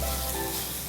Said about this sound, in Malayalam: വീണ്ടും വഴറ്റുന്നു